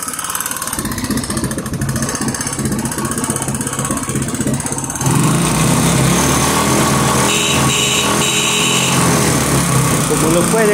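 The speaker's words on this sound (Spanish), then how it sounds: "Vamos a acelerar la motocicleta," A motorcycle engine idles with a low, uneven putter, then is revved up and held at a louder, steady buzzing drone; a brief tonal beep rings out partway through the higher-revving section.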